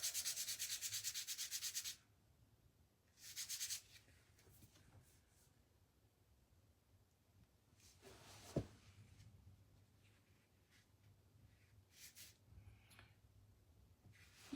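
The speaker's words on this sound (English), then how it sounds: "I just need to sand these gloves." Sandpaper rubbing on small wooden Santa craft pieces from a vintage Old World Christmas kit, in loud broadband bursts at the start and again briefly, then quieter intermittent scraping with a sharp knock partway through.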